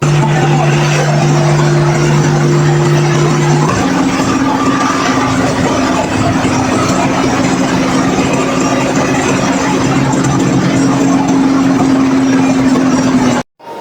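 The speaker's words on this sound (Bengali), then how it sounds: "এবার চলুন আপনাদের একটু আমাদের গাড়ির সাউন্ড ইঞ্জিনের সাউন্ডটা একটু শোনাই" A Mercedes coach engine runs loud and close, a steady throbbing drone with a low tone that steps up partway through, then cuts off abruptly at the end.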